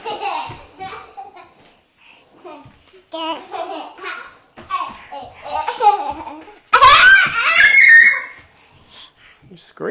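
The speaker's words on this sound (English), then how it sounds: "You're screaming, man." A young girl shrieks and laughs loudly at home, with giggly bursts and babbling between brief adult speech; the loudest, piercing scream comes near the end, close to the listener.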